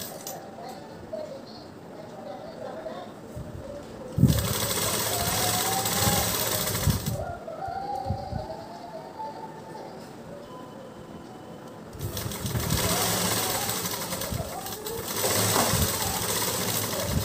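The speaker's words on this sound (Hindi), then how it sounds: "दोनों साइड से हमें स्टिच करना है।" A home sewing machine stitches two layers of fabric for a face mask in two bursts, a loud rapid mechanical whirring that starts and stops, with quieter pauses and a voice speaking between them.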